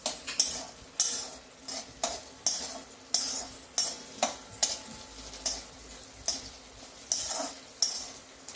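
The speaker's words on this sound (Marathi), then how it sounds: "आता या बटाट्यांमध्ये मिरची टाकायची. मिरचीला परतून घ्यायचं." Green chilies stirred and sautéed with potatoes in a pan for sabudana khichadi, a steady rhythm of spoon scrapes and clinks against the pan over a faint sizzle, close and moderately quiet.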